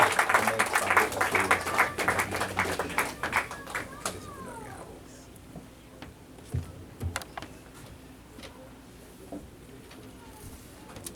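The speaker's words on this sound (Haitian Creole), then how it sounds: "Battant des applaudissements, non? Pour recevoir homme de Dieu." A congregation at a Haitian Baptist church in Florida applauds to welcome a preacher. Dense, lively clapping fills the first few seconds, then thins out and fades, leaving quieter room sound with a few scattered taps and voices.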